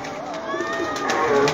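Pigeons kept in a coop coo close by in a brief, continuous stretch, with faint talk in the background.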